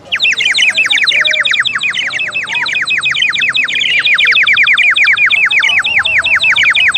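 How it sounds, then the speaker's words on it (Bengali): Many birds chirp together in a dense, rapid, unbroken twittering, loud and close, with no talking. "পাখি অনেকগুলো পাখি যখন ডাকে"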